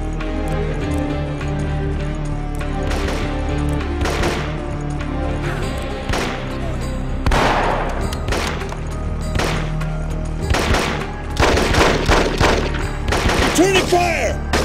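Gunfire in a jungle warfare shooter, Marine Sharpshooter 2: Jungle Warfare, with bursts of rapid shots and sharp cracks repeating irregularly over a low rumbling background, loud and close throughout.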